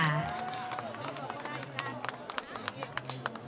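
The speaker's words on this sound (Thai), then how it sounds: "ขอเสียงปรบมือให้กับคุณตาอีกครั้งนึงค่ะดังๆเลยค่ะ" An audience at a live concert in Paris claps in a quickening, fairly steady rhythm, starting soft under a voice and growing more distinct.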